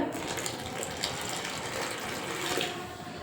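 Steady running water pours into flour for dough with a soft continuous splash, close by, with a faint rattling texture underneath and no talking.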